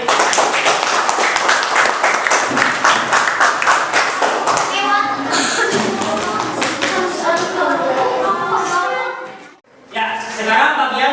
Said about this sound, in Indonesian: Tepuk tangan yang lain.